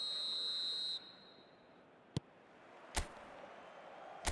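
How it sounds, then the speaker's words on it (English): A referee's whistle in the video game eFootball blows one sustained, shrill blast of about a second to start the match, followed by quiet stadium ambience and a few sharp thuds. "There's the whistle, and here we go"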